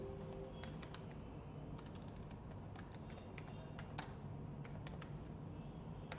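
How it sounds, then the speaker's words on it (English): Light clicking of keys on a computer keyboard, scattered quick taps and short bursts, faint over a steady background hiss, no voice. "I'll just remove this text and type some name"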